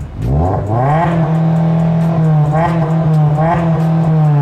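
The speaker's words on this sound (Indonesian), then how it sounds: "Om, goyang-goyangin dikit dong gasnya nih." A Suzuki Ertiga fitted with a front-mounted racing exhaust revs loudly and close up, its engine climbing in pitch and settling into a steady roar with repeated blips of the throttle.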